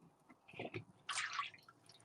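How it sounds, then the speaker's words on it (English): Water is tipped off a pizza tray in a kitchen, giving a short splash and trickle after a few small drips. It sounds close and quiet, with no talk. "let me just get rid of this water."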